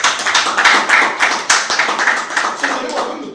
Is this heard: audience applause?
yes